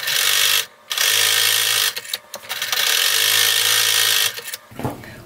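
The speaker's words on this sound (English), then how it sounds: "Now I'm going to be sewing both of these shoulder seams." A sewing machine stitches the shoulder seams of a kids' robe, its motor whirring loud and close in long steady runs broken by brief pauses and a short stop-start near the end.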